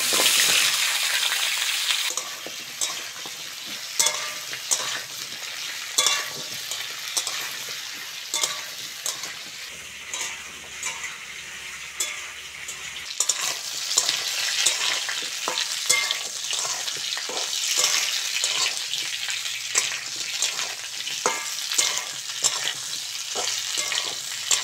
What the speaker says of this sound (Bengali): আলু আর পটল ভালো করে ভেজে নিয়েছি